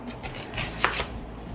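A knife slices through onions on a cutting board in a few soft, close chops at an uneven pace.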